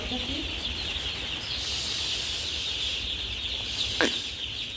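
Soft, steady chirping and clucking of many two-day-old chicks in a brooding house, a constant busy bed of small bird sounds with one brief sharper call near the end.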